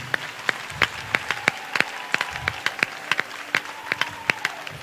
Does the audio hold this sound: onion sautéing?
no